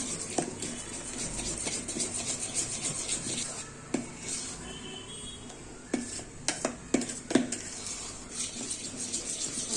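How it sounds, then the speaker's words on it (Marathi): Steady rubbing and scraping of a whisk in a bowl of khaman dhokla batter with soda, punctuated by sharp clinks against the side, fairly quiet and continuous. "फेटून घ्यायचा बघा कसा फुलला हा छान फेटून घ्यायचा"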